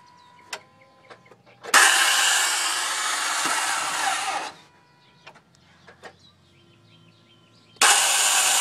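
A 2004 Toyota Sienna LE with a bad starter gives a loud, harsh electric whir that runs for about three seconds, then stops and starts again. Faint clicks and squeaks fill the quiet gap.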